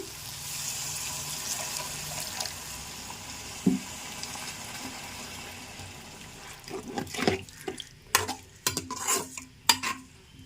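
Sizzling of cucumber curry cooking fades as water splashes in, followed by several sharp clanks and stirring scrapes of a utensil against the pan.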